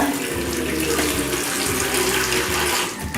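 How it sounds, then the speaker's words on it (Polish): Hot water pours steadily into a container for food, a loud continuous gushing splash at close range with no talk. "Zalewamy to gorącą wodą"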